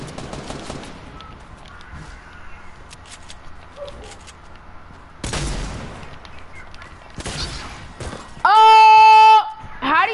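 Bursts of gunfire in a multiplayer video game, a few scattered volleys over several seconds, with players talking throughout and a loud synthetic tone near the end.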